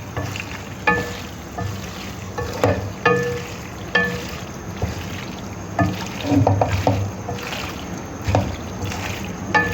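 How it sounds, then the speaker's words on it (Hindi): Chicken macaroni being stirred in a pan, with repeated scraping and clacking strokes of a spoon against the pan over a low sizzle and background hiss, close and moderately loud, without speech. "अब मैं इसको हिला रही हूँ।"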